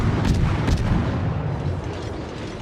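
Heavy naval gunfire from World of Warships battleships rumbles as a loud, sustained barrage of deep booms, with a couple of sharper blasts early and a lingering roar.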